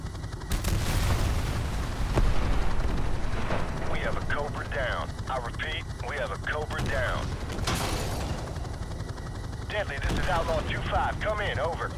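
Small arms gunfire from the Call of Duty Modern Warfare Remastered campaign crackles in sharp bursts through a dense battle din, with radio chatter and voices running over the shooting.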